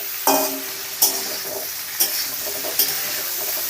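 Cauliflower fries in a pan until browned, with a steady loud sizzle. Every second or so a sharp stir or scrape of the pan breaks through, and no one speaks.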